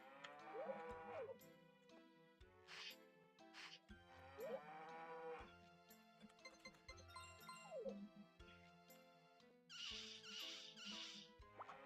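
Several cartoonish cow moos in Harvest Moon 64, some drawn out and sliding in pitch, mixed with bright chiming game music and jingling effects throughout.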